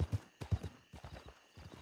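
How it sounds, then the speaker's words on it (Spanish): Horses trotting in Red Dead RP, a western role-play game, with a steady clip-clop of hooves in quick repeated bursts, close and fairly loud. "Me aparecen caballos."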